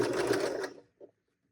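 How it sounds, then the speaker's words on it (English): A sewing machine back stitching along the hem of pajama shorts runs in a loud, steady whir for most of a second, stops, then gives one brief short burst before silence. "You're going to want to back stitch while sewing this"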